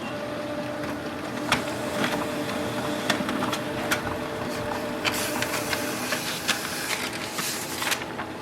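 A Brother HL-L3280CDW color laser printer runs a test page, humming and whirring steadily, with sharp clicks and clacks recurring through the mechanism at close range and no talking.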